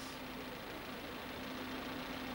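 A Citroën BX 19 GTI engine idles steadily at 850 to 900 rpm with a constant hum and whirring, close and continuous throughout, nothing else over it.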